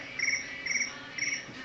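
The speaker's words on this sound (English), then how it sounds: "Crickets have started already." Crickets chirp at a gathering held at coffee time. There are three short, evenly spaced bursts of bright trilling over a quiet background, and no talk.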